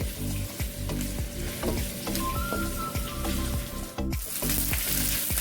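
Garlic sizzles and crackles steadily in a hot pan with onions for pork trotter adobo, close up and loud, with occasional clinks of a utensil and no voices.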